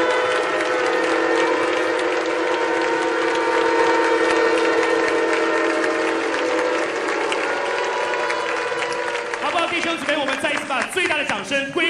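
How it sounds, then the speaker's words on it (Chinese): A church congregation at a national prayer breakfast bursts into loud, sustained applause that carries on for most of the stretch, thinning toward the end as other sounds come in. "最大的掌声归荣耀归主"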